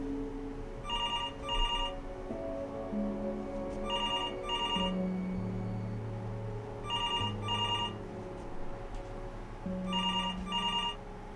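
A telephone rings inside the video game Before Your Eyes, four double-pulse electronic rings spaced evenly apart, moderately loud over a low, droning musical background with no voices.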